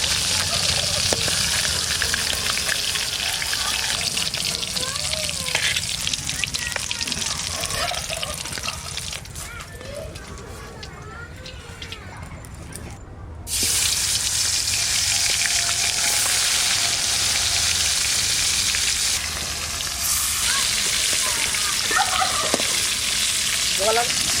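Koi fish (climbing perch) sizzles loudly and continuously in hot oil, with a brief quieter stretch midway before the crackling frying returns at full strength.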